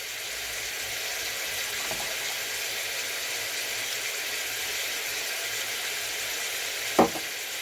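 Burgers shallow-frying in a pan give a steady, even sizzle that runs throughout, with one brief sharper pop or clatter near the end and no talking.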